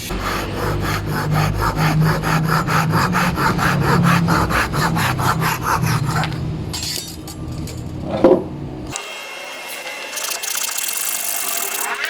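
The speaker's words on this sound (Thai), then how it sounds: "เราก็จะมาเลื่อยทางขวางตัดออกนะครับ เราก็ใช้ ด้านที่ละเอียดนะครับ" A Japanese saw crosscuts wood on its fine-tooth side in quick, even back-and-forth rasping strokes, close and loud. The sawing stops at the end, followed by a light knock and quiet.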